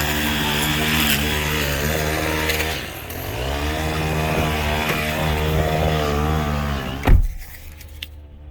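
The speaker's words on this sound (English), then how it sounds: "Sorry for the weed whacker." A weed whacker runs nearby with a loud, steady buzzing engine drone that dips briefly and then recovers, ending in a sharp knock before the motor cuts out.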